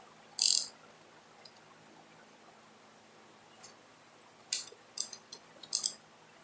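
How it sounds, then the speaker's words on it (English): A 1/4 inch ratchet tightens a bolt on a Honda F23 engine during a rebuild, giving short, close clicking bursts separated by quiet pauses. "You get to use this to tighten it down. So just a 1/4 inch ratchet."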